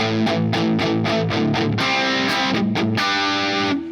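Electric guitar played through a Line 6 Helix patch with an EP booster, amp model and reverb engaged, without compression: loud, distorted strummed chords in a steady rhythm with a brief reverb tail.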